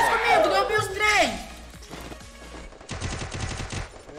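Rapid gunfire bursts from a shooting video game, a quick volley of shots near the end following a louder swooping game effect, all moderately loud with no speech on top.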